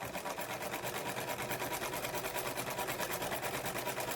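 A Singer 306 sewing machine, freshly oiled and serviced and driven by a belt, runs a zigzag stitch with a fast, steady, even mechanical whirr and a regular clatter that holds for several seconds, close and alone.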